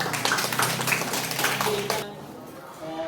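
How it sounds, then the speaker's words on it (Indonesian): Students in an Indonesian classroom clap their hands together in a short, dense burst of overlapping claps at close range, fading out after about two seconds into near quiet. "Ya, tepuk tangan."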